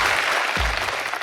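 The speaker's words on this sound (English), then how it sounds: "Round of applause, please." Short burst of audience applause at a tech and AI talk show, steady clapping from a crowd with no voices over it.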